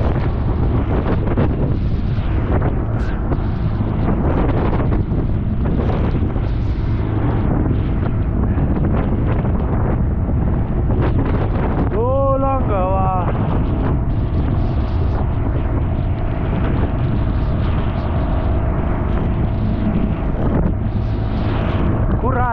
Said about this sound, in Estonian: Tuul on kõvar.